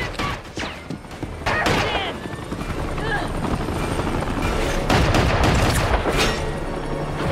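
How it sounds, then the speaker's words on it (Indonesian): Bursts of gunfire crack and echo over a loud, continuous helicopter-like roar and rumble, with scattered booms in a dense action-scene soundtrack from a Terminator film. "Denny menyelamatkan Sarah dengan memberi tembakan ke F9"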